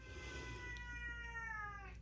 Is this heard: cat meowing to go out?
yes